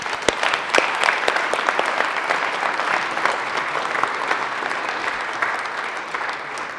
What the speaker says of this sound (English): one more round of applause for our amazing state employees